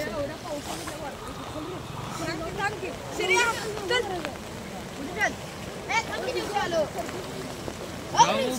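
Swollen village stream at Gundewadi in flood, water rushing steadily with rain and wind, under frequent shouting and talk from people nearby.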